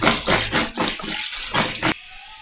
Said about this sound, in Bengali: তো গাইস আমি এখন এগুলোকে ধুয়ে ফেলছি